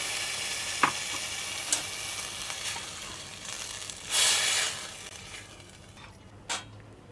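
Prawns frying in a pan sizzle steadily, with occasional light stirring taps and a brief louder hiss as coconut milk is poured in, close and moderately quiet.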